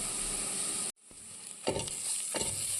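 Fennel seeds and ground fennel sizzling and frying in a pan while being stirred, a steady hiss with a brief drop and a couple of scraping stirs near the end.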